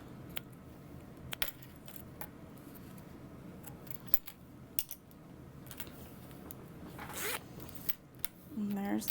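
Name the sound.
zipper on a sewn zippered bag pocket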